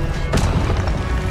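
The Incendio fire spell is cast in Hogwarts Legacy, producing a sudden whooshing burst followed by a rumbling, crackling flare that lingers briefly over a steady game background.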